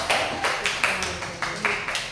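Scattered claps from a small group at a school classroom session, a few soft uneven bursts spaced across two seconds, close and fairly faint.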